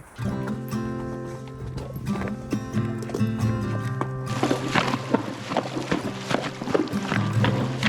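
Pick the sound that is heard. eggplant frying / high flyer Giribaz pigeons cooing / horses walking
horses walking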